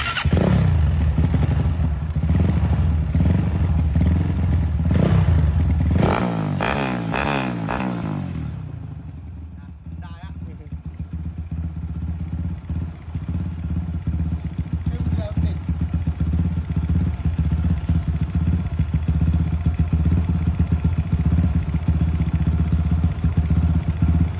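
Honda Sonic motorcycle engine running steadily while riding, a continuous close mid-low drone with a burst of revving clatter in the first seconds, then even engine hum throughout.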